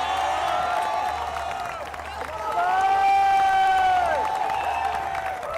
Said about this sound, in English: Look at that, crowd absolutely loving it.